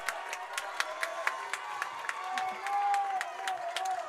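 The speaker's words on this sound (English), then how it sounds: "The crowd is so excited." Indoor crowd at a women's college volleyball match between Kansas Christian College and Central Christian College of the Bible cheers and claps steadily, sharp hand claps repeating through a sustained roar, with a commentator talking over it.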